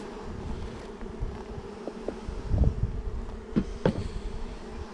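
Honey bees buzzing inside a package box after a puff of smoke, a steady close hum with rising swells and a few louder individual wingbeats passing near.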